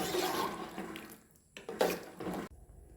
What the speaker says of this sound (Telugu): ఇంకా కొంచెం వాటర్ వేసుకుంటున్నాను.